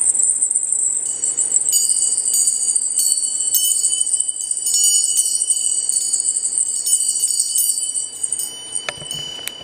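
Bright, high bells chime and jingle continuously, layered tones ringing steadily for several seconds with a soft rustle near the end.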